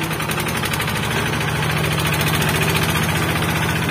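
A ride-on tractor engine runs hard and close, a loud, unbroken, rapidly pulsing throb held steady at high revs throughout, with no talk.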